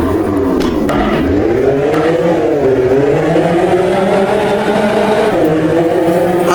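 A fast car in Minecraft drives with a steady, loud engine drone whose pitch rises and falls as it speeds up and eases off, continuous for the whole stretch with no voices.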